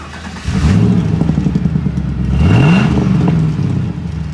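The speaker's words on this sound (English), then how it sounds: "We're going to start it up and let you hear how it sounds." A 1999 Pontiac Firebird Trans Am WS6 with an LS1 V8 and Borla exhaust cranks and fires up, settling into a loud, close idle before a sharp rev rises and falls back.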